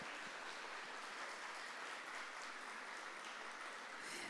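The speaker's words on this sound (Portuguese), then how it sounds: "Uma salva de palmas à Virgem Maria" A church congregation applauds in honour of the Virgin Mary, dense and continuous clapping filling the space at an even level throughout, with no voices standing out.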